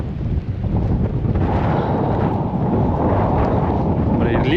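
Wind gusting hard across an open outdoor boat landing in Norway as rain begins, a heavy low buffeting roar on the microphone that swells and holds steady throughout.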